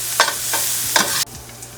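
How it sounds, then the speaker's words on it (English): Onions browning in avocado oil in a pan, a bright steady sizzle with a few stirring scrapes, which cuts off abruptly near the end. "we're gonna brown these onions down"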